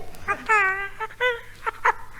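A puppy in an old radio comedy whimpers in several short, high, wavering cries with brief gaps between them, close and fairly loud, with no talk over them.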